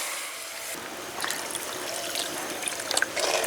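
Water is poured into a bowl to make sugar syrup for lentil laddoos, a steady close trickling splash running throughout at moderate level.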